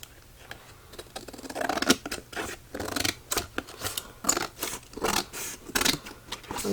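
Scissors snip through paper while trimming the cover of a handmade gift box, a rapid close series of crisp cuts and scraping strokes, fairly quiet throughout.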